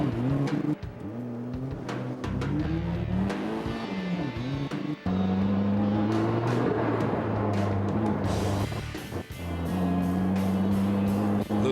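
A car on a drifting course roars loudly through repeated revs and throttle swells, the engine pitch rising and falling as it works the corners. Sharp breaks in the noise suggest gear changes, with no voices heard.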